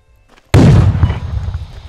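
A frag grenade goes off in a multiplayer shooter: after a near-silent moment comes one sudden, loud, close blast with a deep boom, fading into a rumbling, crackling tail.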